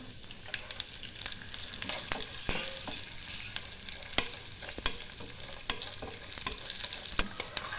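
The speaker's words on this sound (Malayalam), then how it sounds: "ഇനി നമുക്കിതോട്ട് കുറച്ച് അണ്ടിപ്പരിപ്പിടാം. അതിനെ കൂടെ ഒന്ന് ഫ്രൈ ആക്കാം." Cashew nuts and raisins frying in a pan for rava payasam, a continuous close sizzle with frequent crisp spoon scrapes and clicks as they are stirred.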